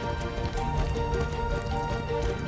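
Horse hooves clip-clop at a steady galloping rhythm in the Wildshade: Unicorn Champions video game, loud and close, with game music running underneath.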